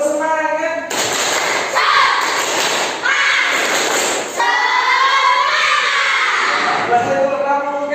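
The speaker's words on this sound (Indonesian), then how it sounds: "Ya, tepuk semangat." Schoolchildren in an Indonesian classroom perform a rhythmic clapping chant, loud bursts of clapping and voices mixed together with shouting in a lively group sound.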